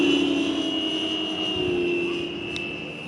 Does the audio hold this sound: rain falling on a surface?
no